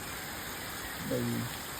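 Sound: heavy rain falling

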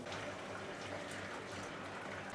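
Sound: hot water poured over roasted barnyard millet

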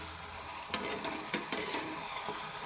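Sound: fenugreek puri frying in oil

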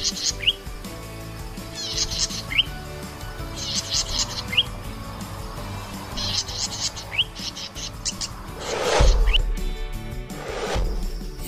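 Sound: songbird singing loudly

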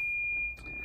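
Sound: car dashboard warning beeping

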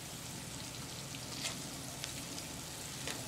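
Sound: onions frying in a pan for palak paneer

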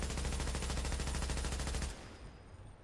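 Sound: gunfire from a gun in the video game Tom Clancy's The Division

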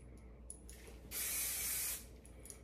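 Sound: hair spray being sprayed

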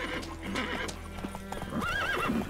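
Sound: horse Roach galloping in video game The Witcher 3

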